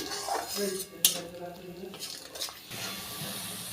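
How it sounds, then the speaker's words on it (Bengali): Spice masala being stirred and fried in a metal pan with a splash of water, giving soft scraping and clinking of a spoon against the pan under a faint background voice, with one sharper clink partway through. "দিয়ে মশলাটাকে ভালো করে কষিয়ে নিচ্ছি"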